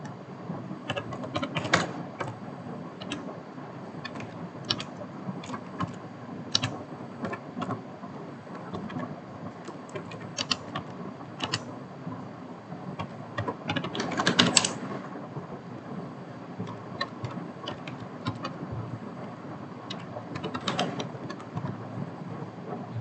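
Computer keyboard keys are tapped to enter a command on a Kali Linux machine, with irregular clicks scattered across a long stretch, close by over a steady hiss and a brief louder burst midway.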